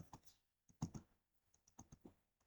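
Soft, close keystrokes on a computer keyboard while entering an Excel spreadsheet entry, a few scattered taps followed by a quicker cluster of clicks, with no talking.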